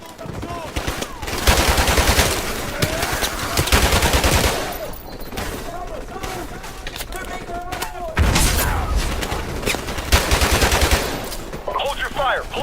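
Automatic weapon fire in the Modern Warfare video game battle, loud bursts of gunshots recurring through the scene with booming impacts, while soldiers shout over the shooting.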